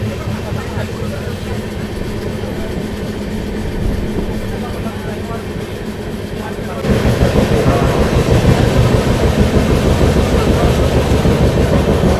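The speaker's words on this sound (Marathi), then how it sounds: "ऑन टाईम प्लॅटफॉर्म नंबर 1 वरून आपली ट्रेन निघाली आहे" A train running from Pune to Kolhapur rumbles steadily along the rails, growing louder and denser partway through, with a constant low mechanical roar and no clear voices.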